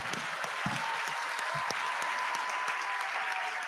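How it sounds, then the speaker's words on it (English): Sustained, dense applause from an audience at an induction ceremony for newly qualified medical and dental practitioners, steady and fairly loud throughout without talk. "Can we give them a very big round of applause?"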